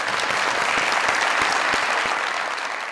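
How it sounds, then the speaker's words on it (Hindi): Steady audience applause in a comedy talk-show studio, a continuous wash of many hands clapping at even loudness for the whole stretch with no talk. "पहले तो कॉन्फिडेंस के लिए तालियां।"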